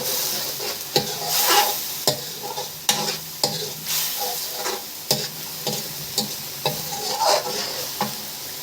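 Cumin and chicken necks being stirred in a hot sizzling pan, with repeated sharp scraping strokes of a spoon over a steady close frying hiss, no voices.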